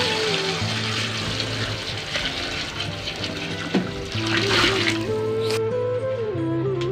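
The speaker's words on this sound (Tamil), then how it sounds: "அடுத்து நம்ம இந்த பிரியாணிக்கு தேவையான அளவு தண்ணி ஆட் பண்ணிக்கலாம்." Water pours into a pot of chicken biryani for a 2 kg Eid batch, a continuous splashing flow heard close up under background music.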